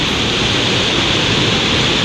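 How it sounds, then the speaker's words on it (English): A big mountain brook used for trout fishing in West Virginia rushes steadily, filling the clip with loud, unbroken, close-up water noise. "It's a big brook too."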